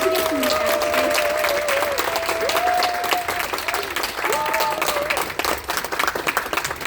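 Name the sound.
audience applause welcoming sponsor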